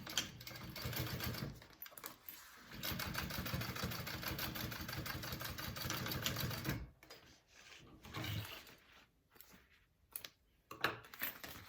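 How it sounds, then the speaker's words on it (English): A sewing machine top stitching a Wonder Bag runs in a steady, busy whir for about seven seconds, then stops and starts in short bursts with quiet gaps between. "I'm going to flip them both and I'm going to top stitch"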